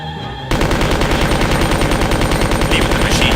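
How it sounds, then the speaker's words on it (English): Sustained machine gun fire in the video game Resident Evil 2, a loud, dense, continuous stream of rapid shots that kicks in after a brief quieter moment and keeps hammering without pause. "Even the machine gun really isn't even a good option."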